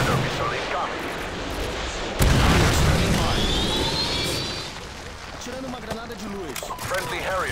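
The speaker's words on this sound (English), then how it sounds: "Friendly Predator missile incoming." Heavy explosion from a Predator missile in Call of Duty: Modern Warfare 2 on the Favela map, a loud booming blast erupting midway amid scattered gunfire, with a voice speaking over the din.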